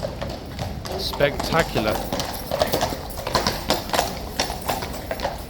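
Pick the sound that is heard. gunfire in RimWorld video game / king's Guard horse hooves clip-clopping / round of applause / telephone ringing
king's Guard horse hooves clip-clopping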